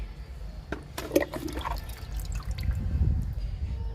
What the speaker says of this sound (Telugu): ఇప్పుడు మొక్కకు పోస్తున్నా